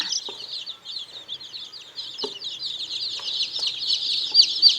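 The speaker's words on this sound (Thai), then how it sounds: "อันนี้ไม่ใช่ไก่บ้านธรรมดานะคะ เป็นไก่ชนค่ะ" Young fighting cock chicks of Burmese breed cheep and chirp continuously in a high, busy chorus, with a few soft thumps and scuffles underneath.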